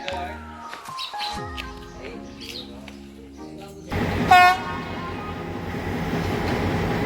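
A train rumbles and clatters at Pattipola railway station in Sri Lanka's hill country, with a short horn toot partway through and people talking in the background.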